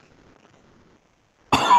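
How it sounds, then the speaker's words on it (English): A single harsh cough after a sip of whisky, close and loud, bursting out abruptly after near silence. "not even that strong, and I'm coughing already."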